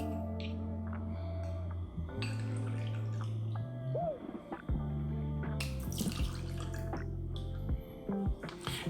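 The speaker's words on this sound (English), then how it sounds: "we will start by pouring 2 ounces of vodka in it" Vodka is poured into a glass as a cocktail is built, a thin trickling and dripping of liquid with small clinks, close by over a low steady tonal hum.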